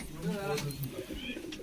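A pet pigeon coos softly nearby in a low, rolling phrase while someone talks over it.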